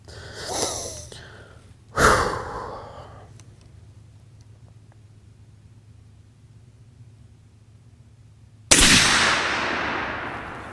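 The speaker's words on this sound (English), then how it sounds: "So top left corner, 3 shots." A 7mm PRC rifle fires three shots at a target outdoors. Each sharp, loud crack is followed by a decaying tail: two come about a second and a half apart, then a long quiet pause before the third.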